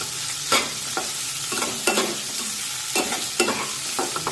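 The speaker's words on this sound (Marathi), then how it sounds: "हे सुद्धा यामध्ये टाकूया कांदा परतून घेऊया" Finely chopped onions sauté in oil in a pan, a steady sizzle broken by repeated scraping stirs at a regular pace, close and fairly loud with no talking.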